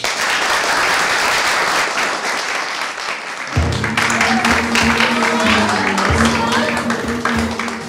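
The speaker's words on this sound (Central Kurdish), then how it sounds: "حەزم لێیە بە چەپڵەکانتان پێشوازی لێ بکەن" An audience of students in a classroom claps to welcome a guest teacher. Steady applause runs throughout, and a voice speaks over the clapping in the second half.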